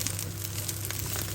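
Rice fries in a pan over medium heat, giving a close, continuous soft sizzle and crackle with no talking.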